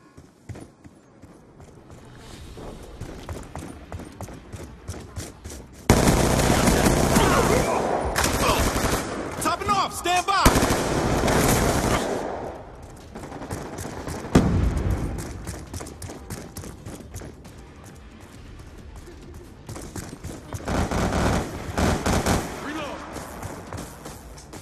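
Shotgun gunfire in Call of Duty: Black Ops 2, team deathmatch on the Slums map, bursts of loud blasts and clattering action noise in several dense stretches, with a voice talking over quieter moments.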